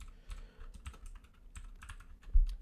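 Rapid, uneven clicking of keys on a computer keyboard, close and fairly quiet, with a slightly harder cluster of strokes near the end and no voices.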